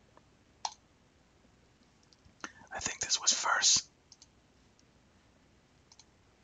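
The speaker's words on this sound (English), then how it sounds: "Let's keep clicking these on the right side." A few sharp computer mouse clicks sound close and quick, then a burst of whispered talk and more scattered light clicks.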